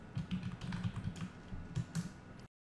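Quiet, close typing on a computer keyboard as a short layer name is entered, a quick run of soft clicky keystrokes that stops abruptly after about two and a half seconds.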